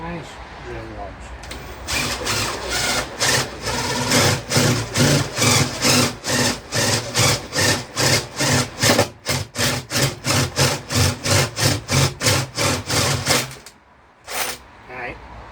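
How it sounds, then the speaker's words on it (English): A drill bores through a hardwood door to fit a mortice lock, making a long run of rhythmic, loud, grinding pulses close by, with a voice talking briefly before the work starts and a short pause before a final burst. "get your drill level and start drilling through"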